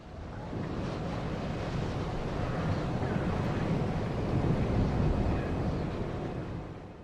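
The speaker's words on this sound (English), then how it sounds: "the sound of the wind had become like a menacing roar" Deep, steady wind roars across Central Yharnam in the Bloodborne video game, a dense rushing gust at the top of a ladder that swells gradually and holds loud and unbroken throughout, with no voices.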